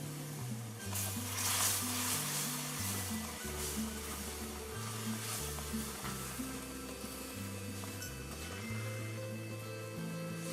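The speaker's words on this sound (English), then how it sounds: "my milk is nice and warm, so this is gonna kind of bubble up" Warm milk poured into butter and semolina bubbles and sizzles in the pot, a steady frying crackle with faint stirring, fairly quiet and continuous.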